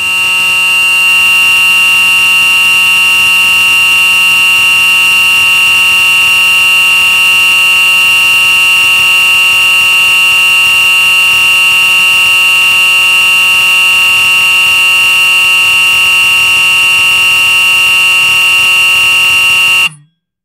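Edwards 895B fire alarm horn strobe blaring a continuous, steady, piercing electronic tone at close range for about twenty seconds before cutting off abruptly.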